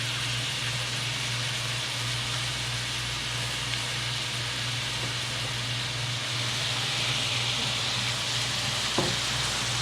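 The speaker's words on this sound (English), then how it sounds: "As it's sizzling." Palm sugar and pork sizzle as they sauté in a pan while Thai tapioca-stuffed pork balls are being prepared. The frying hiss is steady, close and continuous, with no talking.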